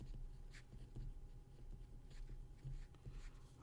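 A pen or marker writes a note during a math lecture on logic, giving soft, steady scratchy strokes that are faint and close, with no talking.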